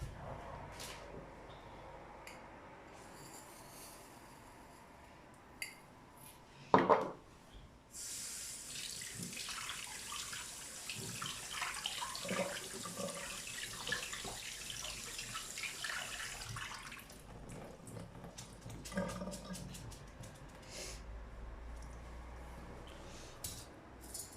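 Rice being washed under a running kitchen tap, water splashing steadily into a bowl and sink for several seconds, with clinks and handling sounds before and after the flow.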